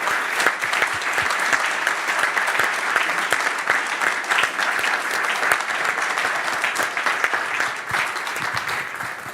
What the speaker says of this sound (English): please join me in a round of applause for everybody for all the finalists.